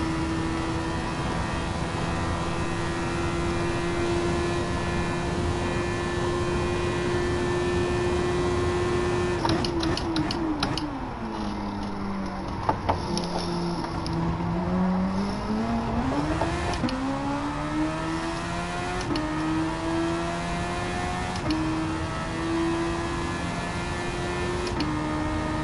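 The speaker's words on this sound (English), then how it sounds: "Need to rev it out more." A racing video game car engine revs steadily throughout, its droning pitch dipping and climbing as the car accelerates, with no talking.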